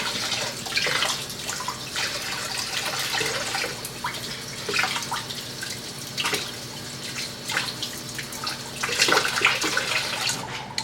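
Kitchen tap water runs over a bamboo whisk to wet it before whisking matcha in a bowl, a continuous close splashing stream with drips and small bursts, no talk.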